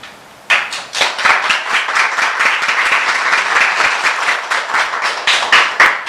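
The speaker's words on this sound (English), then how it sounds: "Keep clapping." Audience clapping fills a board of education meeting room, a dense patter of many hands that starts abruptly and holds steady, close and fairly loud.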